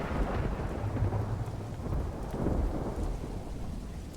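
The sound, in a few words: thunder and lightning in the video game Doors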